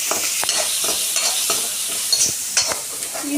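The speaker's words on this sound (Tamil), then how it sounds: "இப்போ நறுக்குன சின்ன வெங்காயம், கருவேப்பிலை, வரமிளகா போட்டு நல்லா வறுவறுக்கும்" Shallots, curry leaves and red chillies frying in hot oil, a steady crackling sizzle with repeated light taps and stirs in the pan, close and moderately loud.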